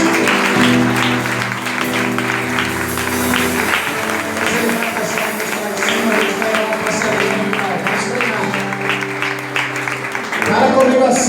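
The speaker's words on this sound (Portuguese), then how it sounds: "Aplaude Jesus." A church congregation applauds during a service, a dense patter of clapping running under sustained music and voices for several seconds, swelling again near the end.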